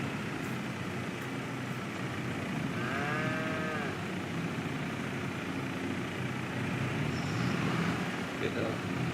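A cow moos once in Farming Simulator 22 on a dairy farm, a single drawn-out low call rising over a constant background hum, with a person talking nearby.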